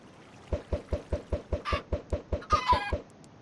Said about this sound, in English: Be free, my little chickens.